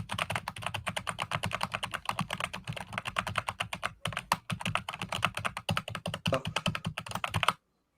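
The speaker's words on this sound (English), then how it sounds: "Even though it's not you, but still, stop typing." Someone types fast on a computer keyboard, with close, crisp key clicks in a dense, steady rhythm for about seven seconds before stopping abruptly.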